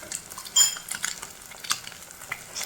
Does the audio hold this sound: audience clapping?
no